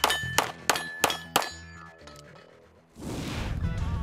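Steel popper targets ring out at a nighttime 3-gun match as pistol shots strike them, four sharp metallic clangs in quick succession with lingering ringing tones, followed by a faint rushing noise.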